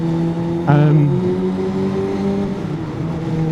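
A 750cc sportbike engine downshifting, a loud steady engine drone that jumps up in pitch with a sharp blip of revs, then settles back into a lower, even hum with slight wind noise throughout.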